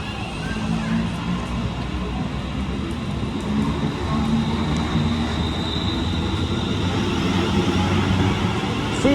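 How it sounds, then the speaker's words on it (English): A London Northwestern Railway service from Crewe to London Euston rolls past on the Trent Valley Line, a steady loud rumble of wheels and rail noise with faint squeal, sustained throughout without talk. "there goes the slightly delayed 1413 London North Western Railway service to London Euston from Crewe"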